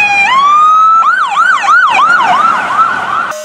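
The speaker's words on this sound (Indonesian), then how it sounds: "Mobil pahlawan yang sangat keren dengan sirine yang sangat kencang." A toy police car blares its siren right up close, a loud rising tone that breaks into rapid repeated wailing whoops before cutting off abruptly.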